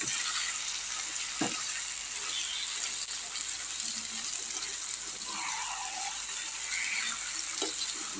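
Chicken sautés in oil in a pan as a steady, dense sizzle and hiss fills the whole stretch, with a couple of faint utensil knocks and no talking.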